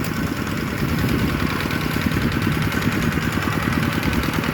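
A walk-behind rice-field tractor engine runs steadily in a rain-soaked paddy, giving a loud, close, continuous low putter with an even pulsing beat and no voices.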